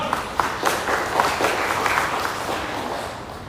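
A church congregation claps during a Sunday sermon, a broad wash of many hands with a few louder claps near the start, holding steady and moderately loud to the end.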